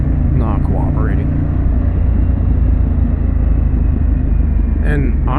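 A Harley-Davidson Pan America motorcycle fitted with a Vance Hines exhaust rumbles loudly and steadily nearby, a deep continuous drone that sits under someone talking.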